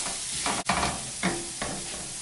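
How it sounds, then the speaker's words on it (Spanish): Flour cooking on low heat in a pot of crab chupe, a soft continuous sizzle broken by a few brief stirring scrapes, close and steady with no talk. "Ahora dejamos a fuego lento, que se vaya la harina cocinando en ello."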